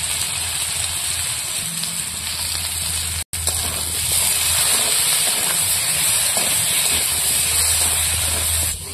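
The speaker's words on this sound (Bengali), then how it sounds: "হলুদ আর লবণ দিয়ে আলুটা ভেজে নেব।" Potatoes frying with turmeric and salt make a loud, continuous close hiss and sizzle that briefly drops out, then resumes a little stronger.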